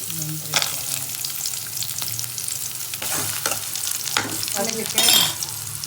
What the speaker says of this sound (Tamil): ஒரு பேனில் எண்ணெய் ஊற்றுறோம், வெங்காயம் போடுறோம், ஒரு 2 ஆனியன் கட் பண்ணிப்போம், அதுக்கப்புறம் முந்திரி போடுறோம்.